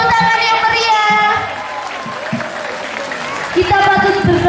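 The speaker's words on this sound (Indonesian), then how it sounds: "Tepuk tangan yang meriah." Applause from a crowd at an Indonesian school arts and culture performance fills the whole stretch, steady clapping continuing while a voice speaks loudly in Indonesian over it.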